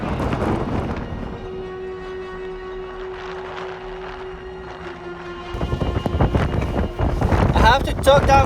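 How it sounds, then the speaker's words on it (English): Strong wind on an exposed Peak District hilltop near Alport Castles, roaring and buffeting against the microphone in heavy gusts that ease briefly and then surge louder toward the end. "I have to duck down for cover, it's so windy."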